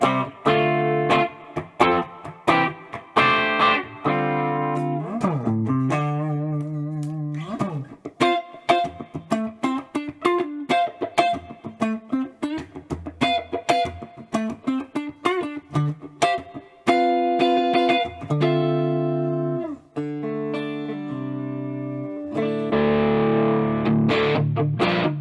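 An electric guitar plays a clean tone through a TONEX pedal and TONEX cab, plucked notes and chords ringing out one after another, close, clear and steady in level.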